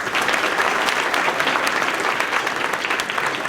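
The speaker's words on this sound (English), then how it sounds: "So let's give them a round of applause." A school spring concert audience applauds visiting student musicians with a full, continuous roar of clapping that stays strong and even throughout.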